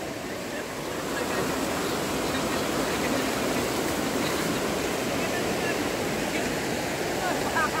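A cold river runs with a strong current, a steady broadband rush of flowing water heard close and continuous, with voices talking faintly over it.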